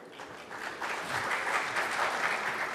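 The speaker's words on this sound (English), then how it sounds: "Please give them a big round of applause." An audience at a conference session applauds: steady, dense clapping that builds after the first second and holds at a moderate level.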